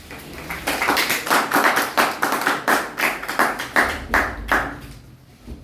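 An audience applauding a professor at a public talk, a burst of loud, dense clapping near the listener that rises quickly, holds for several seconds, then fades out.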